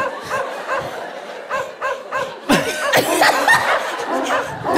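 A person imitates a dog, giving a run of loud, close bark-like yelps. Chuckling and laughter mix in, and the barks grow denser and rougher toward the end.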